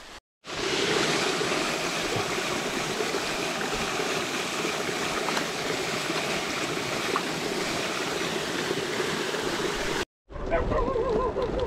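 Roadside waterfall on the way from Manila to Tinoc, a dense steady rush of falling water heard up close for about ten seconds, cut off briefly near the start and end.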